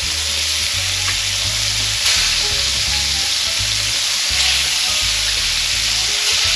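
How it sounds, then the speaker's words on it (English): Pork loins searing in a hot pan make a loud, dense, steady sizzle heard close up, with a low hum running underneath and no voices. "I don't wanna cook them for very long. I just want them to be seared."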